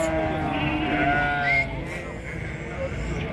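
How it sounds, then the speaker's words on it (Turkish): Sheep at a sheep market in Ganja bleat close by in a few wavering cries, set against a steady crowd murmur and outdoor market bustle. "Kardeş koyunları"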